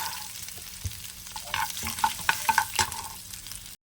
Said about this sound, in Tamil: அதையும் நல்லா இதோட வறுக்கணும்.